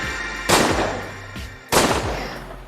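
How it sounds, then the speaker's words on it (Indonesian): Two sharp pistol shots ring out about a second apart, each a loud crack followed by a booming decay, heard alone without speech. "2 kali suara tembakan menggetarnya"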